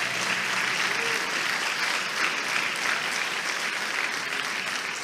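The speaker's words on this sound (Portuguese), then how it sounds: "Podemos aplaudir o Senhor pela vida deles?" A church congregation claps in a sustained, thick round of applause, a steady roar of many hands that holds evenly throughout without any clear voices on top.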